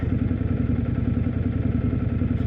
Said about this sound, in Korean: 배기음을 지금 엄청나게 막 누른 것 같은데